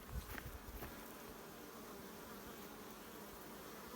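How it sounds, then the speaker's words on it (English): A steady, dense buzz of many bees around a hive fills the air, with a few louder passes close by early on, then a constant hum. "That's a box of bees, that hive."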